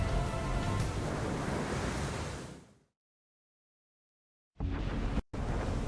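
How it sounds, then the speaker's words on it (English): High winds and heavy waves lash the Mediterranean Sea around a top-heavy heavy-lift cargo ship: a dense, loud roar of surf and wind that fades out, goes silent, then bursts back abruptly. "The Mediterranean is being lashed by high winds."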